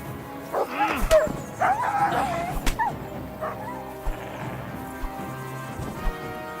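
Dog barks from the medieval video game Kingdom Come Deliverance, a few sharp yips and barks in the first three seconds among game action and hoof clops, then quieter scattered thuds.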